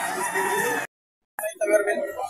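Rooster crowing at a game farm in San Jose del Monte, Bulacan, a loud close crow that breaks off briefly and then resumes with rougher crowing and clucking.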